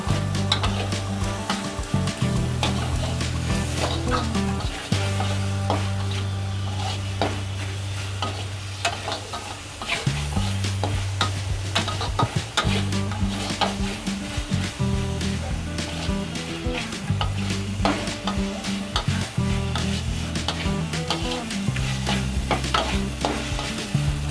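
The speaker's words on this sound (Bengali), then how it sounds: "মাছ ভাজার যে তেলটা ছিল সেই তেলেই আমি মশলাটা কষে নিব" Steady sizzling of spices frying in leftover fish-frying oil, with repeated scraping and stirring sounds and a low rhythmic droning underneath throughout.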